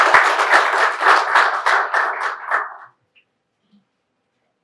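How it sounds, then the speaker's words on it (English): Audience at a construction fraternity meet-and-greet event at HITEX claps loudly for about three seconds, a dense burst of hand claps that cuts off abruptly into near silence. "Give him a big clap."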